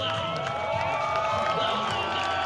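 A baseball stadium crowd cheering at a Long Beach Coast versus Oakland Ballers game, a steady broad roar of many voices with whistles and shouts, heard from within the stands.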